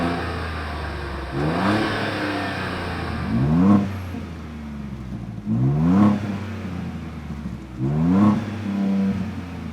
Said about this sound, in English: AWE does a pretty damn good job of giving this thing some presence, using a nice deep tone without being too loud, raspy, or farty